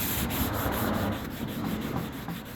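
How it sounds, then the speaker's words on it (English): Rhythmic hand sanding, sandpaper rubbing back and forth across a wooden cabinet door in quick, even strokes, close up with no talking. "see how I was sanding it?"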